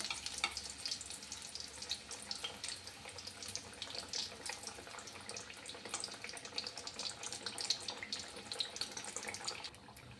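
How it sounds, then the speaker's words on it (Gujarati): Farali samosas frying in hot oil until crispy, a continuous dense crackle and bubbling sizzle that holds steady and then softens slightly near the end. "એકદમ સરસ એવા ક્રિસ્પી આપણે તળી લેવાના છે."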